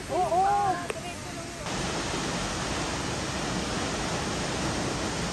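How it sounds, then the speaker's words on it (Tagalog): Aw-Asen Falls, a waterfall, gives a steady, broad rushing roar of water that holds evenly after a brief voice and a sharp click at the start. "unti-unti nang maririnig ang mas malakas na lagaslas na tubig"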